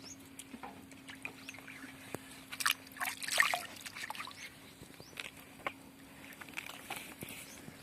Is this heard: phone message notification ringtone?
no